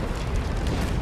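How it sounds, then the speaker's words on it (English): Explosion in the WWII video game Medal of Honor: Above and Beyond, a loud, dense rumbling roar that fills the whole second with steady low-end boom and broadband noise, no pauses. "That explosion got the attention of all the German patrols in the area"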